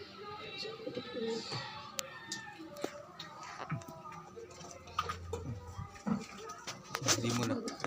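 Pigeons coo in soft, low, repeated calls against a busy outdoor background with scattered knocks and rustles.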